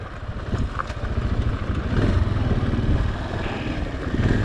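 An Italika DM 200 motorcycle is ridden with a steady, rough engine drone and rumble heard close up, its level rising and easing slightly as it moves, with wind noise mixed in and no talking.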